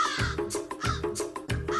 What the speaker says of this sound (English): Your scream scared the crows.